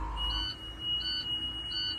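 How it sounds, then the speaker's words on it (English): An emergency exit door alarm beeps in a steady repeating pattern, three shrill high-pitched pulses about every three-quarters of a second, nearby and alone. "alarm sounds as it's supposed to"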